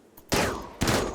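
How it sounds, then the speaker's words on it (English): Two bursts of gunfire from a squad in the video game Rimworld blasting at a wall, each a loud, close volley that rings out and decays. "You four shoot that wall."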